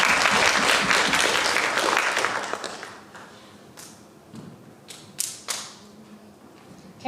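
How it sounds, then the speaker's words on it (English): Applause from students in an elementary math competition, a dense burst of clapping lasting roughly three seconds before dying away into quiet room noise with a few scattered knocks and thumps. "Let's give Marius a round of applause"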